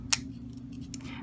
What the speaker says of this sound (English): So I'm just going to keep cutting these out.